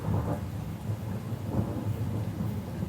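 Steady rain falls under deep, rolling thunder, a low rumble that swells and fades over a few seconds with constant dense patter and no voices.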